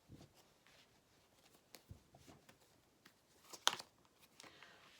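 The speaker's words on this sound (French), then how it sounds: "Allez, on va rajouter des cartes." Cards are drawn and laid down in a quiet room, giving a run of soft flicks, rustles and light taps, with one sharper snap near the end.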